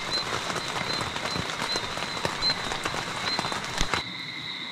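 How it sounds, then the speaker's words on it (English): Heavy rain in the Jamaican countryside patters steadily and densely on a surface, a continuous close hiss of drops with no voices, ending abruptly near the close. "it is raining cats and dogs right now"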